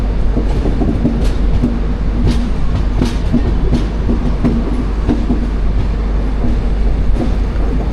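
Loud, steady rumble and rhythmic clickety-clack as a South Central Railway train hauled by Vijayawada-shed locomotive 37318 on the Murudeshwar–Kacheguda Express rolls into platform 1, continuous throughout.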